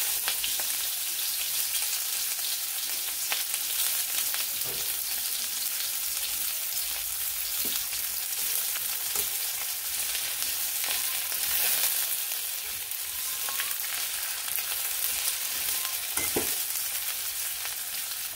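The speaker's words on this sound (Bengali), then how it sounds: "তো পেঁয়াজটা হালকা একটু লাল লাল করে ভেজে নিব।" Chopped onion with cumin fries in hot oil in a pan, giving a steady, loud, continuous sizzle that runs throughout, with occasional scrapes and knocks as it is stirred.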